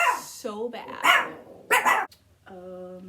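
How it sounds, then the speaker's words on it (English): Dogs bark close by in a few sharp, loud bursts with growly yips, separated by short pauses, and a voice may be mixed in. "They want to bark so bad."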